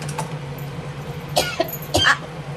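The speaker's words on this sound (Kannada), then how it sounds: "ಕೆಮ್ಮು ಬರಂಗೈತೆ." A few short, close coughs come in quick succession over a low, steady electrical hum.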